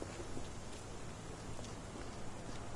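Steady, soft rainfall in the ReAwakened Sherlock Holmes video game, a continuous even hiss with no voices over it.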